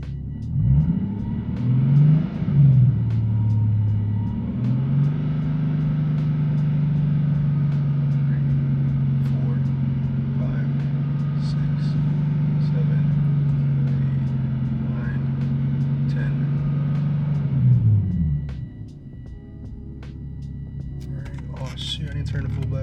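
A Nissan Z engine revs up and holds steady near 3000 rpm for about fifteen seconds, a loud, close, even drone that then drops back to idle, with a voice talking briefly afterward.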